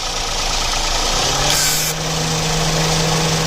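A Toyota Paseo engine runs at idle as the AC compressor engages, adding a steady pulley hum and a short bright whine over the close, even engine drone.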